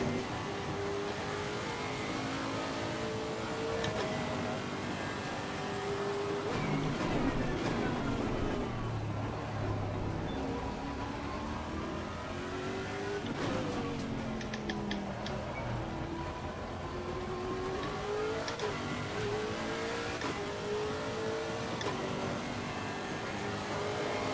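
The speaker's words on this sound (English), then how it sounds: "Love the sound of the car." A Lexus GT3 race car engine in a racing video game drones continuously, its pitch climbing and dropping as it revs through gears, loud and steady with no voices.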